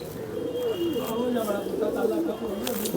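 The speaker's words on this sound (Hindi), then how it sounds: "ये आपको मैं दिखाने जा रहा हूँ चैम्पियन पिजन" A champion flying pigeon held in the hand gives soft, low repeated coos, close by, with someone talking over them.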